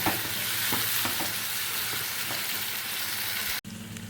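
Chicken sautés in a pan for khichdi, a dense continuous sizzle broken by scraping stirs of a spatula, then a sudden drop to a quieter hiss near the end.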